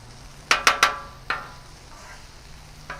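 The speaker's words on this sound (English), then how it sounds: "So right now I'm gonna mix a little bit of these onions with it" Onions and thin-sliced cheesesteak meat tossed on a hot griddle: three quick close scraping clatters of a spatula in a row, then a fourth, over a faint steady sizzle with a low hum underneath.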